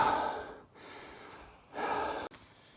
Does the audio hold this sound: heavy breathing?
yes